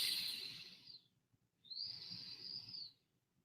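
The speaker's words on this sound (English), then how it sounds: "My nose is a little stuffy, so enjoy the whistling." Two long, thin nasal whistles ride on breathing through a stuffy nose, one fading out at the start and a steadier one later, with soft low rustle underneath.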